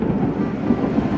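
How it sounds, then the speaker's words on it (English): Steady rain falling outdoors with low rumbling thunder, a dense continuous wash of noise with deep rolling undertones and no voices. "Here's the rain now."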